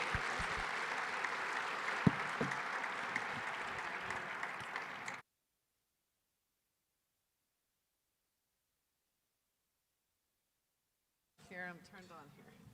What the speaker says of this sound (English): I ask the audience to join me in a round of applause.